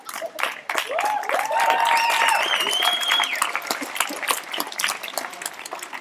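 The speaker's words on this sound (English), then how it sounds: "That applause technically is coming to me" Audience applause at a farewell ceremony, a dense wash of clapping lasting several seconds under whistles, cheers and rising voices, steady and loud throughout.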